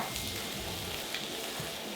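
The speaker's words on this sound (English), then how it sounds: "leek's been frying for about 2 to 3 minutes" Chopped leek sizzles and crackles steadily in a hot pan, a continuous close-up frying hiss with faint stirring movement.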